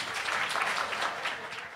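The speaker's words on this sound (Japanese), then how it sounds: "さあ大きな拍手をお願い申し上げます。" A packed arena crowd at a RIZIN flyweight face-off with Horiguchi gives loud, continuous applause, a dense even wash of clapping with no voices over it.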